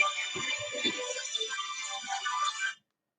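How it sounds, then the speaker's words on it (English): A phone rings with an electronic ringtone during an educational rapping skit. The tone is bright and warbling and runs for almost three seconds before cutting off abruptly. A few low voiced sounds come in near the start. "Hold on, everybody. I got a phone call."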